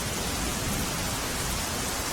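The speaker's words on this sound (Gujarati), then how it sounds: "અમદાવાદ શહેરમાં લાંબા સમયના વિરામ બાદ ફરી એકવાર વરસાદની શરૂઆત થઈ છે।" Rain pours over Ahmedabad in a steady, dense hiss, loud and close, with no pauses or voices.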